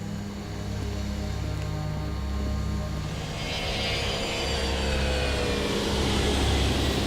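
A jet airplane climbing away after takeoff from Pyongyang, its landing gear just retracted, with a loud, continuous engine roar and rising whine building steadily throughout.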